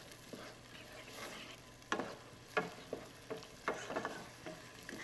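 Butter and green peppers sizzle in a pan for corn casserole with a steady fry hiss, broken by several sharp stirring scrapes and clatters, close and moderately quiet, no talking.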